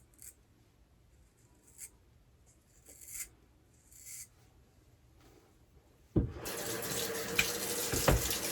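Water runs from a sink tap during shaving cleanup, starting abruptly and streaming loud and steady after a quiet stretch of a few faint scrapes and clinks.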